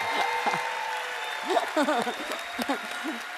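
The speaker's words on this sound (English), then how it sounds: "A round of applause for Meredith, please." Audience applause for Meredith at a LifeWave conference session, a steady patter of clapping with a voice speaking over it.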